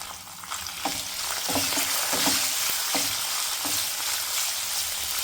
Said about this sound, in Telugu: వేసుకుని ఫ్రై చేయండి